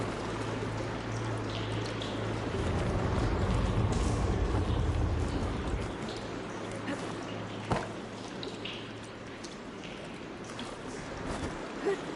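Water rushing and circulating through pipes in the game Horizon Forbidden West, a steady pouring, gushing wash with a low hum that swells in the middle, plus a few faint clanks.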